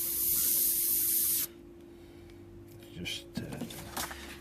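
Airbrush spraying paint for realistic fur, opening with a loud continuous hiss that cuts off, then several short, fainter bursts as the paint is switched on and off in quick back-and-forth strokes.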